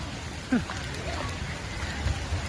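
Rain falls outdoors at Eco Park in Kolkata, a steady wash of drops on surfaces, with voices talking briefly over it.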